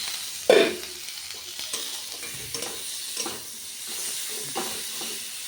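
Chili powder, turmeric, salt, ginger-garlic paste and tomato sautéing in a pan for an egg curry, with a loud initial sizzle burst followed by repeated spatula stirring scrapes over a soft continuous fry.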